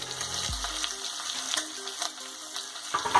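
Bacon and calabresa sausage frying in a pan, a close, steady crackling sizzle with spattering pops, plus a low thud near the start and a few clinks from stirring.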